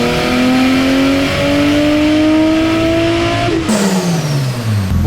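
A Toyota JZX110 Mark II's engine revs hard on a dyno with the boost turned up, a loud, sustained, rising roar that shifts down sharply partway through and climbs again, with no voices.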